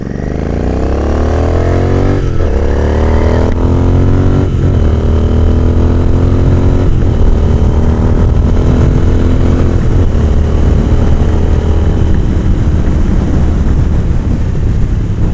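Royal Enfield 650 twin motorcycle with a booster plug fitted, riding with repeated throttle openings; loud, close engine note climbing in pitch through several gear pulls with brief shifts between, continuous and without talk.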